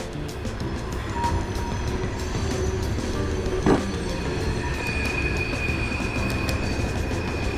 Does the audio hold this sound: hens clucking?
no